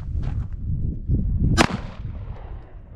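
A single sharp, loud shot from a Beretta 92X pistol cracks out at a target range, with a brief ringing decay and some low rustling before it.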